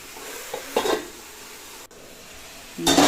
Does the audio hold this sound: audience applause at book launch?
no